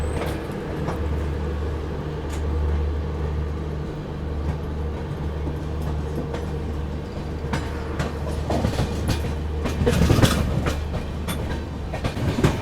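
The Rameshwaram–Firozpur Humsafar Express rolls along the rails near Fatehabad with a continuous low rumble and steady clickety-clack of wheels over joints, heard from on board, with a louder burst of rattling near the end.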